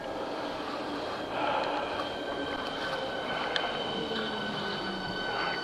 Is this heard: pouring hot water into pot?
no